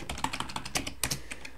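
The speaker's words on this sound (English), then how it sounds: "so now we're just typing code here, VHDL code, into this window in Radiant" Quick, light keystrokes on a computer keyboard as VHDL code is entered in Lattice Radiant, a steady patter of close, soft taps with no talking.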